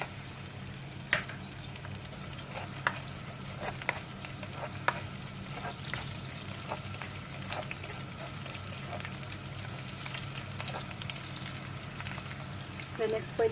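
Chopped garlic sautéing in a pan for a home-style squash dish with mushroom and moringa, a soft steady sizzle with light stirring scrapes and clinks throughout.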